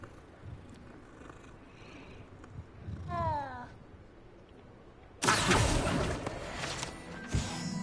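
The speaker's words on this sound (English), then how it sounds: "I hear a cat" A cat meows in the Harry Potter Legacy video game, one short rising-falling meow heard faintly against quiet ambient background, followed later by a louder burst of game noise.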